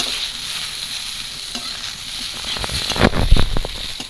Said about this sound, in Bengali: বেগুনটা হালকা করে একটু ভেজে নেব